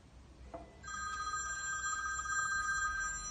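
A telephone rings with a steady electronic tone that begins partway through and holds on, moderately loud over a quiet room during a Who Wants to Be a Millionaire style quiz game.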